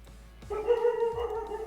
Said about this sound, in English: Whose dog is barking?